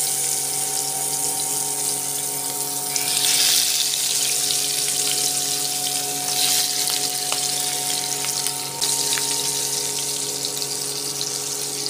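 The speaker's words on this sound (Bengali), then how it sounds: "তো দেখুন মাছগুলো এবারে ভাজতে দিই একটা একটা করে।" Hilsa fish frying one by one in hot oil, a steady loud sizzle and crackle that runs continuously and close by, with bursts of stronger spitting now and then and no talking.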